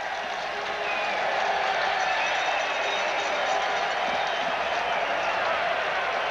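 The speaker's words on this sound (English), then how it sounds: "Gets a little cheer from the crowd." A small cheer and scattered clapping rise from the stadium crowd at a 1993 CFL game between Winnipeg and Edmonton, a broad, distant wash of noise that swells slightly and holds steady.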